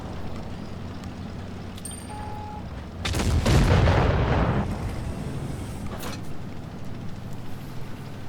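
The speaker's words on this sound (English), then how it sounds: "there you can see how quickly this tank bursts its damage again" A Bat-Chat 25t Roland autoloading light tank fires in Tanks Blitz, one loud booming shot followed by a rumbling roar that fades over a second or two against steady engine and battle noise.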